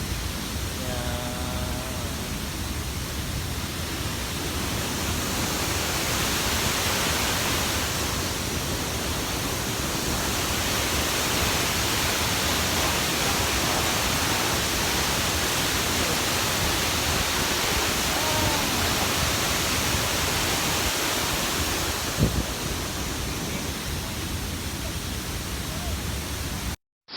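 Seven Falls waterfall at Lake Sebu in South Cotabato, a constant broad roar of falling water close by, with brief voices now and then beneath it.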